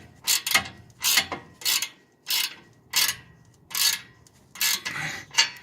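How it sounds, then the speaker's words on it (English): A ratchet wrench tightens exhaust bolts on a 1988 Toyota pickup with a 22R engine, a little at a time, in about eight short bursts of clicking, close up, evenly spaced. "And then I'm going to tighten this guy down. A little bit at a time on each side."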